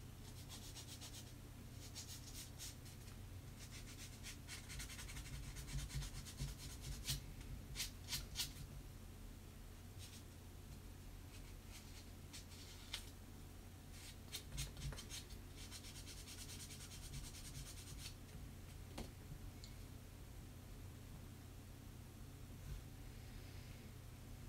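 A plastic Gundam model kit part is sanded by hand with quiet, irregular scratchy rubbing strokes, close up and soft, with brief pauses between bursts of strokes.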